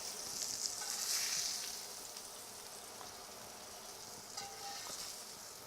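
Steak sizzling in butter in a Lodge cast iron pan, a steady close hiss and crackle that swells early and then settles into an even sizzle with a few brief pops.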